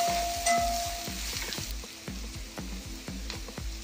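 Onions frying in a pan for beef roast gravy give a constant close sizzle, while a utensil thumps and scrapes through them in a quick, steady rhythm of roughly twenty strokes.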